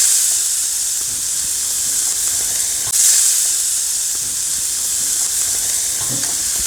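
Catfish pan-frying in oil as it is flipped, a loud, steady hissing sizzle with a brief surge of spitting midway when the fish turns over, close by with no voices.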